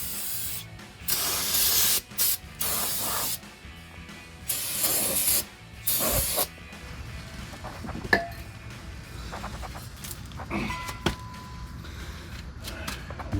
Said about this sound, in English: I'm just gonna hit the brake pads,